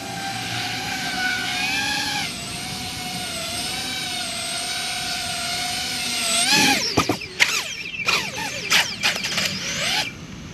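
An FPV drone whines steadily with layered tonal motor hum, then its pitch swoops and surges in erratic bursts as it manoeuvres in close to land.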